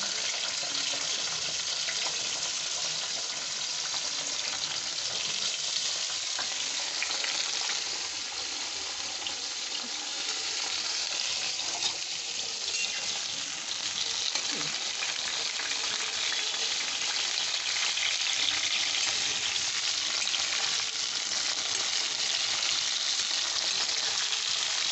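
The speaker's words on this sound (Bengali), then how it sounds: "সর্ষের তেলেই হবে রান্না। সব পটলগুলোই আমি দিয়ে দিচ্ছি," Pointed gourd (potol) pieces frying in mustard oil, a dense continuous hiss and crackle close up, steady and unbroken for the whole stretch with no talking.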